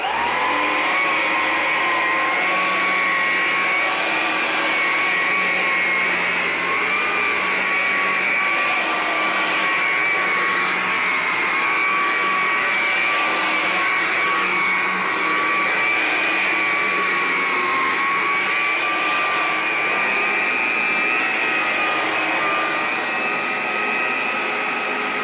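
An Electrolux Discovery 3 Model 1572E upright vacuum cleaner, about two years old and fitted with a Kirby bag, runs steadily with a loud, continuous motor whine and airflow roar, heard alone throughout.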